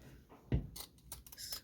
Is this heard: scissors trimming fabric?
yes